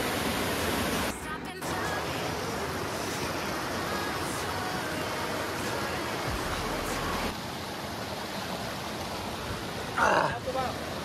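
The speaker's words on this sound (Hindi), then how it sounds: "ऐसे छोटे छोटे वाटरफॉल मिलती हैं ये देख सकते हो" Small waterfalls along the trail to Tamasin waterfall in Jharkhand give off a steady broadband rush of falling water, loud and continuous throughout, with a brief break and a short splash or rustle near the end.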